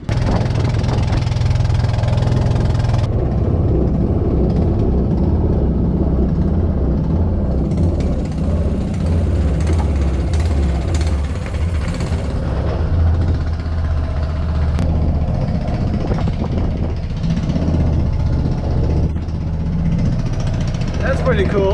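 A boat engine running on the Amazon River drones loud and steady throughout, a continuous low rumble close by with no break.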